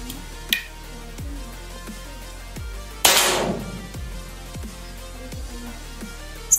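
An RTXX Alpha PCP air rifle fires a mini slug, giving a single sharp, loud crack with a brief noisy burst, set against faint regular ticking in a quiet outdoor setting.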